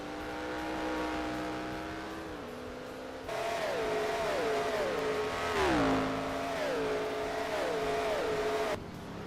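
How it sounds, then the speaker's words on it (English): Race car engines roar past one after another at Portland International Raceway, pitch rising and falling as they shift gears and accelerate, loud and continuous. "you look back and all you hear is the race cars."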